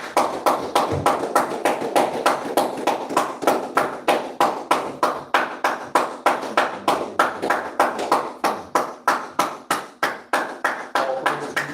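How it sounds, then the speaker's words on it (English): An audience gives a steady, loud round of applause for a minister, with rhythmic unison clapping that carries on throughout. "with a healthy round of applause"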